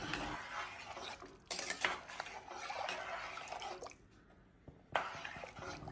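Rice and cooked beef mixed in a pot for a Chettinad beef biryani, with close spoon scrapes and clinks against the metal in bursts and a brief quiet gap partway through.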